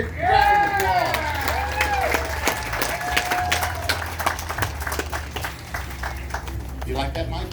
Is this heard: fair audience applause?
yes